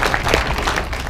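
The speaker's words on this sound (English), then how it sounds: "You should give him applause." Audience applause rises briefly in a live show setting, a dense, loud wash of close clapping lasting about a second with no voices over it.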